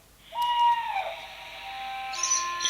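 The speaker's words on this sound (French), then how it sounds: "vous avez plein d'endroits où vous pouvez appuyer et ça vous fait le bruit de l'oiseau en question" A single electronic bird call plays from a press button in a bird sound book: a clear, whistled owl-like hoot that sustains close up and tails off, with a faint tone layered in near the end.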